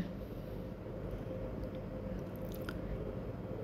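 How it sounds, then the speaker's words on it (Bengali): Black gram lentils are ground on a small stone grinding slab, making a continuous, close gritty crunching and rubbing that stays at an even level throughout. "আমার সেই মাসকলার ডালগুলো আমার ছোট্ট পাটার মধ্যে আমি টুকটুক করে বেটে নিচ্ছি।"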